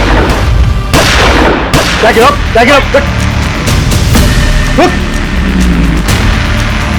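Gunfire in an Indian TV crime drama: several sharp, loud bangs spaced a second or two apart, mixed with tense shouting voices and background noise.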